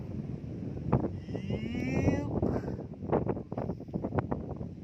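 Gusty wind buffets the microphone in a steady low roar, with voices talking throughout.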